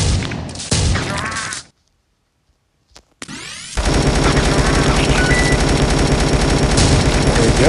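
Turret gunfire in the mobile zombie game Dead Ahead: Zombie Warfare, with a rapid burst that cuts to silence, then a sustained, loud, continuous stream of automatic shots with no voices.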